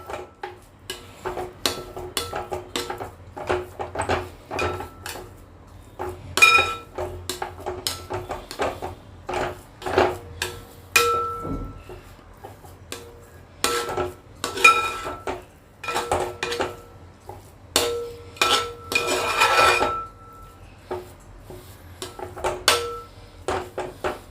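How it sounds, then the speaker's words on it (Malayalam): Rava kesari being stirred in a heavy uruli pot, a steady run of scraping clinks and metallic taps of a spoon against the vessel's sides, close and irregular, with no talk. "ഇളക്കി നല്ലപോലെ കട്ടയില്ലാതെ ഇളക്കിയെടുക്കുക."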